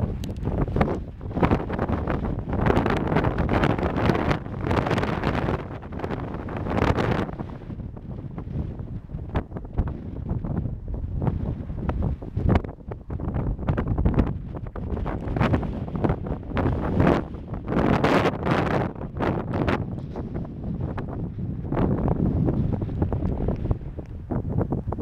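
A strong headwind of about force 6 or 7 on a sailing trip buffets the microphone, a loud roaring rush in uneven gusts that swell and ease throughout, with no talk.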